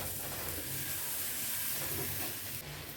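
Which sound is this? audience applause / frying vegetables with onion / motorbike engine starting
frying vegetables with onion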